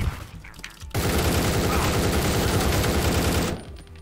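In the tactical shooter Door Kickers: Action Squad, a long, loud burst of rapid automatic gunfire runs for about two and a half seconds after a short quieter lead-in, then stops sharply.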